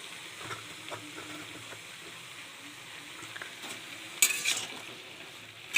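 Spices get stirred in a frying pan over a soft, low sizzle, with light scraping strokes throughout and a brief louder hiss and clatter near the end.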